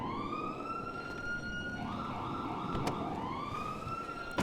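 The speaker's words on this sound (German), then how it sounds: "Kommen die Sirenen her wieder?" A police siren wails in the video game GTA during a roleplay session, rising and sweeping at a moderate distance over a faint background rumble, without talk.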